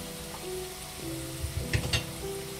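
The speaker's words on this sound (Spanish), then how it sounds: "en una sartén con aceite caliente ya las empezamos a incorporar" Tortillas fry in hot oil in a pan for chilaquiles verdes, giving a continuous close sizzle and hiss, with a few soft knocks of the pan partway through.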